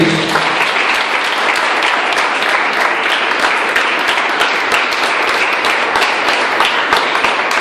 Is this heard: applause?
yes